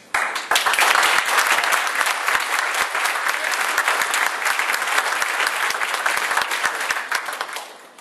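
An audience at the Pantano/McIntyre debate in Fayetteville bursts into applause, a loud, dense wash of clapping that holds for about seven seconds before thinning out and fading.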